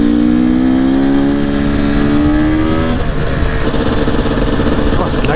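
An enduro motorcycle engine revs hard on snow and ice, its rising whine climbing steadily before breaking into rough, noisy sputtering, loud and close throughout.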